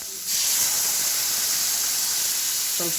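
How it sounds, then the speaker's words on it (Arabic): Loud, steady hissing sizzle bursts in abruptly and continues without pause as blended, strained tomato sauce is poured into a very hot pan for kofta Dawood Pasha. "اسقط الصلصه"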